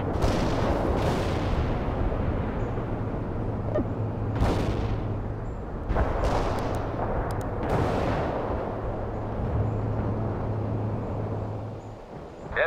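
Missile and artillery fire in the real-time strategy game World in Conflict, with repeated heavy booms and sharp bursts over a constant rumbling battle din and a steady low engine drone, lasting the whole stretch.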